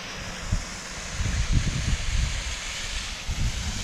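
A river rushing through Glenariff Forest: a steady, broadband wash of flowing water filling the whole stretch, with low rumbling gusts and bumps mixed in and no talk.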